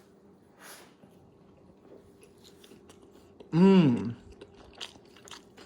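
Someone bites into a folded beef taco, with soft, faint crunching and chewing sounds, then gives a brief appreciative hum.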